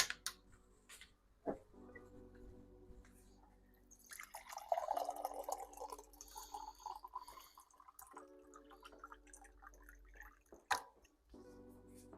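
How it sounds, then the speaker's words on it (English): Faint water trickling and dripping through a Berkey filter over a low pump hum that drops out and returns, with occasional sharp clicks. "we're going to pump water through this filter now."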